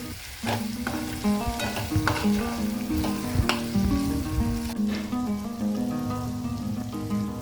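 Peanuts being mixed into dal palak as it cooks, a loud continuous sizzle with busy stirring, clattering and scraping of a spoon through the pot, running steadily for several seconds.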